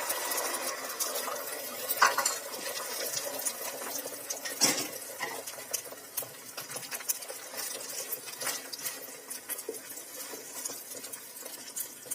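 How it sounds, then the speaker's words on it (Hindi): An egg fries in a little oil on a hot tava griddle, giving a steady, moderately loud crackling sizzle throughout, with a brief clink of utensils partway through. "तवा हमारा गर्म हो चुका है, तो इस पे मैं डाल दी हूँ थोड़ा सा ऑयल और इस पर हम डालेंगे ये"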